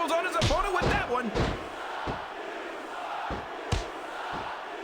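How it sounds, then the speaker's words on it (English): Arena crowd noise from the wrestling video game SmackDown vs Raw 2006, a loud roar of cheering near the start that eases into a steady background din, punctuated by several sharp thuds and slams from the ring. "This capacity crowd is making their opinions known tonight."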